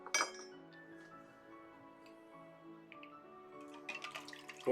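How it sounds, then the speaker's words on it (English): A bubbly carbonated lime drink is poured into a glass, with a bright clink at the start and again near the end, faint trickling and fizz between, quiet and close. "Pour into your glass."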